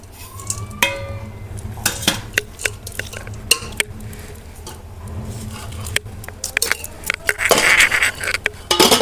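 Cashew and almond powder with ground sugar stirred in a metal pan for fig halwa, with intermittent sharp spoon scrapes and clinks against the pan, close and sparse, louder toward the end.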